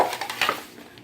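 Ceramic bowls, some nicked and broken, clink and knock together as they are handled in a dumpster, a few close light clatters and then quiet.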